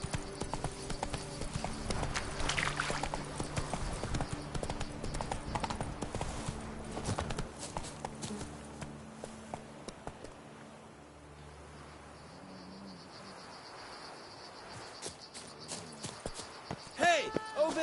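Hooves of the horse Roach galloping in The Witcher 3, a quick rhythmic clip-clop that runs loud for several seconds, then fades and eases off, with other game sounds and a brief voice near the end.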